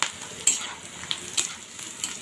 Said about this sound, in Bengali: তো জিরা দিব তেলানি।